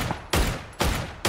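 Gunfire in a first-person shooter video game: three loud, close, sharp bursts spaced roughly half a second apart, each one cracking across the full range against a hissing background.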